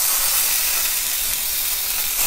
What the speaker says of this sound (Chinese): 直接下锅煎就行，不用放油